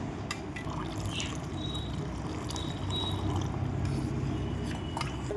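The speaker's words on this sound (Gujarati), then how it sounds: "તો આપણે પાછું પાણી નાખશું." Palash flower water is poured a little at a time into a soap base while mixing, giving a steady trickling, liquid wash at moderate level with faint clinks over it.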